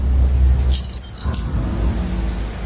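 Keys jangle in the video game Contradiction, a short metallic rattle in the middle over a steady low engine-like rumble, with no talking.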